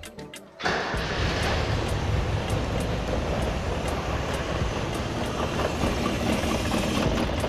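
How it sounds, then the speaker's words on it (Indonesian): A car engine runs rough and uneven with a vacuum hose left open during a vacuum line test, giving a loud, steady rumbling hiss that starts abruptly and continues close by without a break. "jadi mesinnya pincang karena terbuka"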